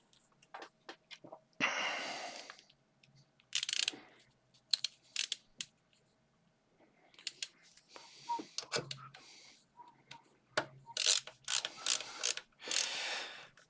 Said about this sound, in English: Just a few more screws to go in this